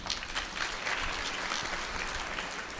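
Steady applause from a seated audience fills the space, dense and continuous without breaks, a broad wash of many hands clapping at moderate distance.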